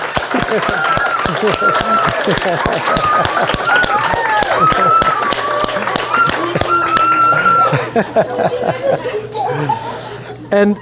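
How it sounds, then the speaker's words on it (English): A conference audience gives a sustained round of applause at a personal development event, dense and steady, mixed with laughter and chatter that fade out near the end. "Just give a big round of applause for everybody."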